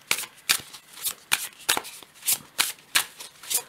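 Oracle cards are shuffled by hand in a quick, regular series of crisp riffling bursts, close and alone, with no talk.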